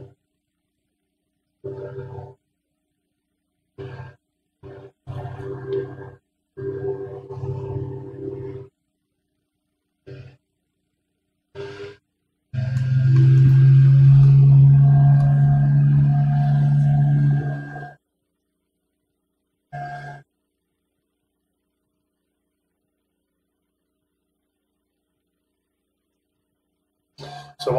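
A Hoover vacuum cleaner runs loudly for about five seconds as a steady droning whir, with brief bursts of talk before and after.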